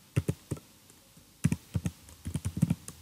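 Someone types a command on a computer keyboard with quick, crisp key taps in two bursts separated by a short pause. The typing is close and clear, and no one speaks.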